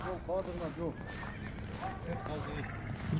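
Horses for sale in Kyrgyzstan, with repeated whinnies and neighs sounding close over muffled hoof clops, and people talking throughout.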